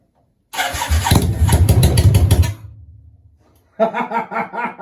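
A Yamaha Virago 535 motorcycle cranks and starts close by, a loud churning start that settles briefly, fades, then catches again into a rapid pulsing idle.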